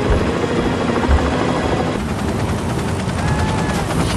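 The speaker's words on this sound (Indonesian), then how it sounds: "Dipimpin oleh Carter, sang pilot helikopter, Kate dan kawan-kawan pun langsung meluncur ke Antartika saat itu juga." A helicopter in a film set in Antarctica flies close and loud, its rotor thudding in a steady rapid chop with a dense roar underneath, unbroken for several seconds.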